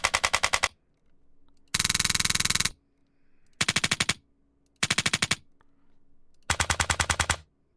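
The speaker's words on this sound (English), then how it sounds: "Toy machine gun." A toy machine gun sound effect for a video game fires in five loud rapid bursts of repeated shots, separated by short gaps with a low hum in between.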